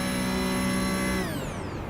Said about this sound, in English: Clutch is in, you saw the revs drop.